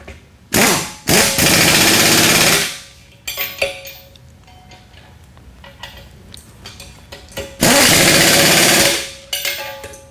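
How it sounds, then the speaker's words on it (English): A pneumatic impact gun tightens bolts on a CS-1 sifter during a rebuild, firing two loud hammering bursts of about two seconds each, with quieter clanks and handling noises between them. "tighten them up with an impact gun"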